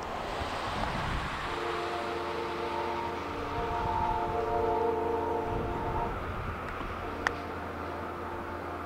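A big Norfolk Southern freight train's horn sounding from a crossing about three miles off, long sustained tones held for several seconds, faint and distant over steady ambient rumble, with a brief sharp click near the end.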